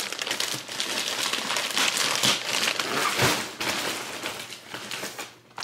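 A plastic package from a large Temu haul is cut and torn open up close, giving dense continuous crinkling and rustling with a few sharper crackles.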